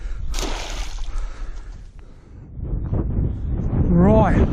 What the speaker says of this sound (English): Much windier up here.